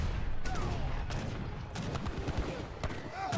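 Heavy cannons fire in a real-time strategy video game battle, bursts of sharp blasts and crackling volleys overlapping among other battle noise, with a commentator's voice faintly present.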